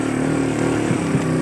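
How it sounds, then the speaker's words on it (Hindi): A motorcycle engine drones steadily and loudly at close range, a continuous running hum on a mountain road in the high Samani valley of Azad Kashmir. "मोटरसाइकिल बैठे हैं"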